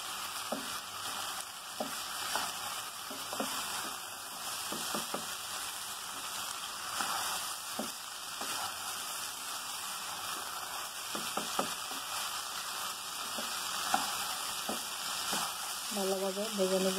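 Dal fries for egg khichuri with a continuous gentle sizzle and intermittent spoon scrapes, a faint tonal hum running underneath, and a voice briefly audible near the end.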